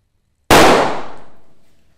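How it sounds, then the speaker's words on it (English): A helium balloon is ignited in an echoey lecture theatre, giving one sudden loud bang that rings out and decays slowly through the room's reverberation over more than a second. "Nice loud bang though in this echoey lecture theatre."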